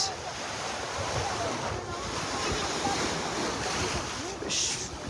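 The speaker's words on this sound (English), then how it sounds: "This is a beach, high tide." Ocean waves washing onto a beach at high tide in Albay, Philippines, a steady full roar of surf with wind buffeting the microphone throughout.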